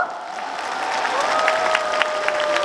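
Festival concert audience applauding at the 27th Sacheon Waryong Cultural Festival, steady dense clapping and cheering from a large outdoor crowd, with a sustained musical tone underneath.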